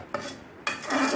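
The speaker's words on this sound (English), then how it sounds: "So I added the butter and mixed it well" A spoon scrapes and stirs a thick Sri Lankan milk toffee mixture with butter in a pan, giving two quick, close rasping strokes.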